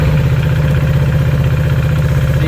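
A KTM RC 390 single-cylinder motorcycle engine idles steadily up close, a loud, even low throb with a fast mechanical patter throughout and no talking.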